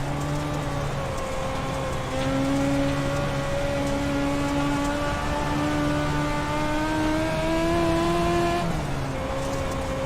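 Several legend race car engines drone steadily through a dirt oval race in iRacing, their rising and falling harmonic whines overlapping loudly and continuously with no talk.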